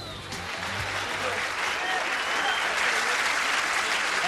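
Steady, dense applause from an appreciative crowd at a 9-ball pool match in Chesapeake, sustained and even throughout with no breaks.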